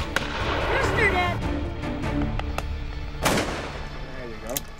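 Shotguns fire at a driven bird shoot in Idaho, several loud close blasts with echoing tails, mixed with shouting and excited talk outdoors.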